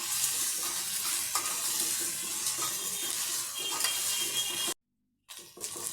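Onions and ground tomato sauté in a pan for a Virudhunagar-style egg gravy, making a steady, close hiss with faint stirring. Near the end the sound breaks off briefly, and no one speaks.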